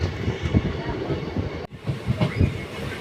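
Passenger train running on the Dhola to Veraval line after leaving Kunkavav, recorded inside the coach: loud continuous rumble with rhythmic wheel thumps on rail joints and a brief sharp clunk midway.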